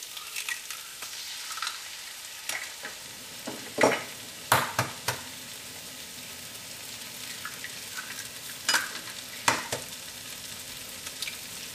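Egg added to softened hot tomatoes in a pan for thattukada chicken kothu chapathi sizzles with a soft continuous fry, broken by several loud spatula scrapes and clacks against the pan. Nobody speaks.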